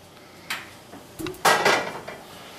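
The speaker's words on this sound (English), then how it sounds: "Now we're going to take the pan." A cooking pan is picked up and moved, giving a few clanks and a sliding metallic scrape followed by a louder rattling burst, close by with no talk.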